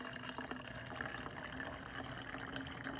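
Vinegar poured into a plastic soda bottle, a steady continuous splashing fill at close range with no pauses and no talking.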